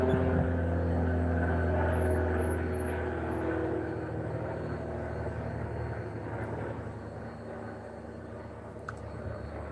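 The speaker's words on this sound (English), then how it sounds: "I wanted the airplane to pass over." An airplane passes overhead as a steady, loud broadband drone that slowly fades over about ten seconds, heard outdoors with no talking.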